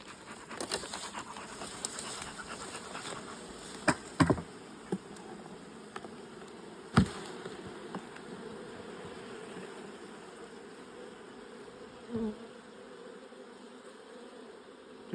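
Honeybees hum in a low, continuous drone from an open hive being inspected, faint and steady throughout, broken by a few sharp knocks and clicks of frames and handling gear.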